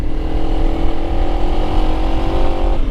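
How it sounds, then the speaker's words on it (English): A small motorcycle climbs a mountain road in third and fourth gear, its engine droning steadily and loudly up close, with a continuous tonal hum and no talk. "one thing with a smaller bike, you go through the gears a bit"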